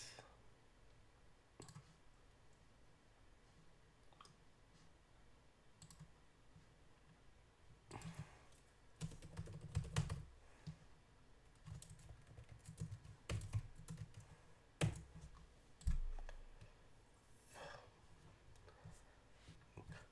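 Keys on a computer keyboard click in scattered clusters, faint and fairly close, with busier typing bursts and some heavier taps in the second half and quiet gaps between.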